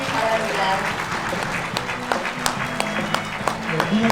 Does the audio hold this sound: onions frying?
no